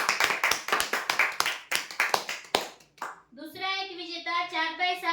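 Loud applause breaks out for a lucky draw prize winner, a burst of sharp close hand claps fading after a few seconds into a voice and other talk.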